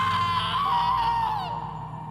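A woman lets out a loud, piercing, sustained scream lasting about two seconds, wavering in pitch before trailing off slightly, heard alone with no talk.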